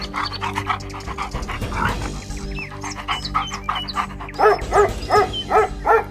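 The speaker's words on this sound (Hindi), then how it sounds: "मंत्री ने एक कुत्ते को बक्से से कोई चीज सूंघाई और उसके बाद कुत्ता आगे" Dog sniffing and panting in quick rhythmic bursts close to the microphone, with occasional whimpers and yips over faint background music.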